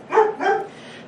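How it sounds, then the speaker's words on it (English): A female dog gives two loud, close barks in quick succession, with nothing else heard. "I don't know why she's barking"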